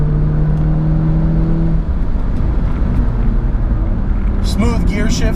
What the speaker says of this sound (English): Smooth gear shifts from the dual clutch.